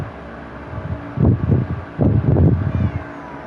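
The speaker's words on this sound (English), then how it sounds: "Just a cat." A cat in the video game Lunar 4 meows a few times in quick succession, short rising cries heard close over a steady low background hum.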